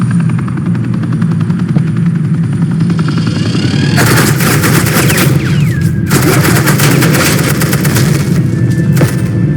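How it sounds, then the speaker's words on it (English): Suppressing fire in the video game Batman: The Enemy Within comes as a loud, dense burst of rapid automatic gunfire over a steady helicopter-like engine roar, lasting a couple of seconds before it cuts off. "suppressing fire."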